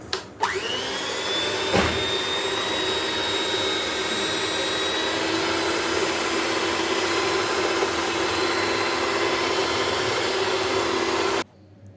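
A dough-kneading machine churns wheat flour dough with salt and water for roti, a loud steady motor whir with a high whine, running continuously for about eleven seconds before cutting off abruptly.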